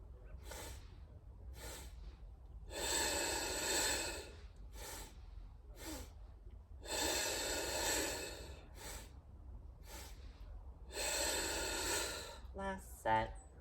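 Rhythmic breathwork during a plié exercise: short sharp puffs of breath alternate with longer, louder sustained breathing spans in a repeating cycle, close to the microphone.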